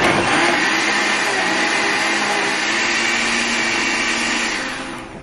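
A kitchen blender grinds beef birria taco ingredients in one loud, steady whir that runs without a break and fades slightly at the very end, with no talking.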